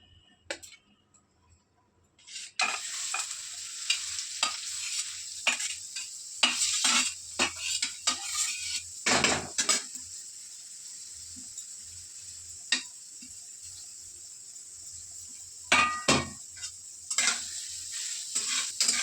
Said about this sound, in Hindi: मतलब चॉप कर लिया है गाजर को, उसमें मैं घी में फ्राई कर लूँगी